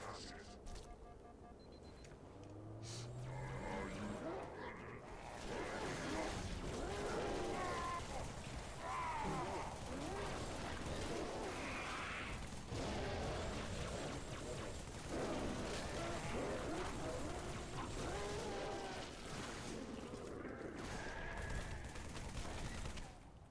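Rapid, overlapping gunfire from Halo 3 combat against Brutes, with bursts and automatic fire that stay loud and continuous throughout, while a voice talks over parts of the fight.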